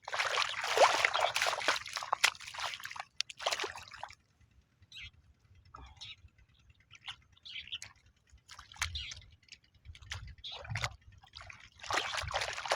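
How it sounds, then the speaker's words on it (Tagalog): Water gushes and trickles steadily into a rice seedbed, with broadband splashing that swells loudest at the start and end, a low rumble underneath and faint bird calls. "lakas na yung tubig guys."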